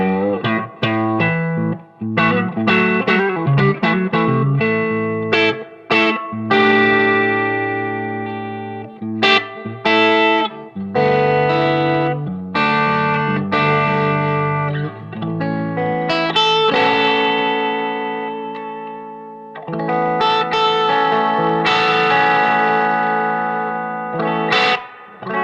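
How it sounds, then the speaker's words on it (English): An electric guitar plays chords and single notes through a vintage Magnatone M9 amp turned all the way up, with a touch of Strymon Flint reverb, sounding loud, driven and slightly distorted with a warm shimmering wash, continuous with brief gaps. "I'm going to add a little bit of reverb on the Strymon Flint just for my sanity."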